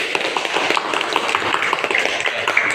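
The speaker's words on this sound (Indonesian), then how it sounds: "tepuk tangan untuk kelompok 1" Classroom applause for a student group presenting, a brief burst of many hands clapping rapidly and fairly close, continuous across the short stretch.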